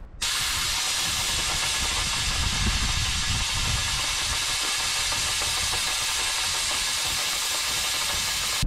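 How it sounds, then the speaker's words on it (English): Diesel fuel blasts out of a skid loader's fuel tank as a fine atomized spray, a loud continuous hiss of rushing air that holds steady, close up, with no talking. "So I'm atomizing diesel fuel."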